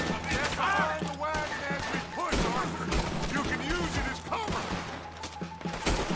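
Repeated gunshots in Red Dead Redemption 2 crackle in a busy firefight during a wagon push, with shouting voices over the shots.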